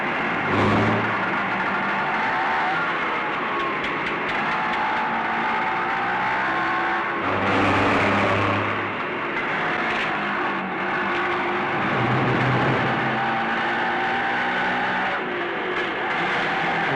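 A car drives along with a continuous engine drone that swells and eases in a few passes, without any voices over it.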